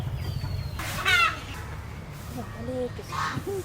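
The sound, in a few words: male duck calling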